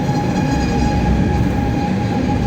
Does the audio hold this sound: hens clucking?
no